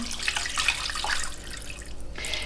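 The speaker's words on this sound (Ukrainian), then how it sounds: "Заливаю водою, так, щоб м'ясо було накрите." Water poured over meat in a pot while making homemade boiled sausage, a steady close splashing and gurgling stream with no voices.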